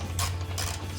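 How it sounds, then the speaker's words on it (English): An 11mm socket ratchet turns out the radiator bolts on a Jeep Wrangler, giving a short run of close, steady ratcheting and rubbing over a constant low hum. "I'm going to go ahead and remove the bolts here. So again, 11mm socket."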